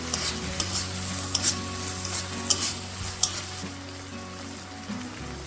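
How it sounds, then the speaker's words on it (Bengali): Chopped tomato sizzles in hot oil with frying onions, a steady moderate crackle broken by several sharp clicks and scrapes of a spoon against the pan. "এখন আমরা কুচানো টমেটোটাকে দিয়ে দেবো।"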